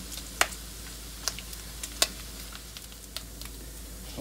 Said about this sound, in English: It starts off with 12 ounces of bacon that I've diced up. Now I'm sauteing.